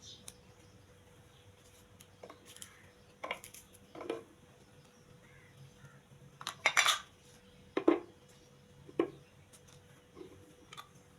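A knife cuts a mango in a home kitchen for a sweet-and-sour chutney, giving scattered light clicks and taps of the blade against a plate or board, quiet and spaced over several seconds with no talking.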